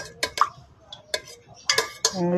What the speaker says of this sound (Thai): ตีไข่ค่ะ ที่จริงเราต้องตีไข่ก่อนนะคะ